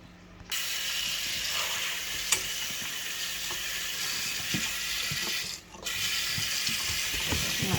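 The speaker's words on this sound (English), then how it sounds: "So let's go and wash it up." Water from a sink tap runs steadily in a loud, continuous gush while vegetables are washed under it, with occasional knocks and splashes. The flow cuts out briefly once and then resumes.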